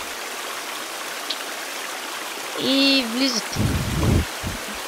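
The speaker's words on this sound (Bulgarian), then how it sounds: "И тук отпред имате пак вода." Steady broadband wash of flowing water in The Forest video game, a continuous rushing bed under a brief tonal game sound and a few short bursts near the end, with a voice talking over it.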